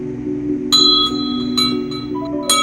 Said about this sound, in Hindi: पहले 3 बार घंटी बजाना चाहिए